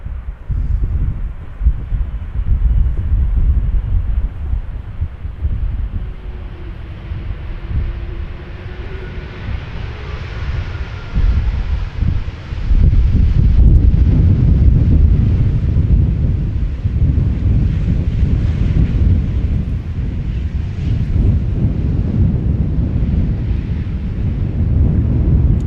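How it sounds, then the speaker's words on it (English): Strong wind roars at Amsterdam Schiphol Airport, buffeting the microphone with a dense, continuous rumble that swells louder midway and stays heavy. "It's getting a bit bumpy, and that is the wind."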